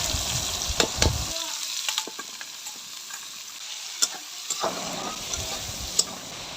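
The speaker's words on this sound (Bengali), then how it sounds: "এবার দিয়ে দেবো পেঁয়াজ কুচি" Chopped onions, about 700 grams, drop into hot mutton fat and fry with a steady sizzle, interrupted by sharp stirring clatters and spatula knocks.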